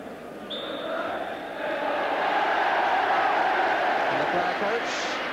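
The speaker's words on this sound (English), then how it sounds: "The crowd applaud." A football crowd applauding after a 3-0 home win, a broad steady wash of clapping that swells and holds for several seconds.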